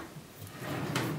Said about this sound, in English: The cabinets all have little drawers in them.